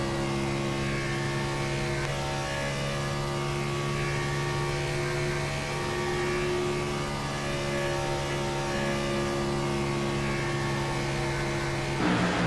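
Race car engines scream wide open on the throttle through turns one and two at Kansas Speedway, a sustained loud droning roar with steady harmonic tones that hold constant before shifting slightly near the end.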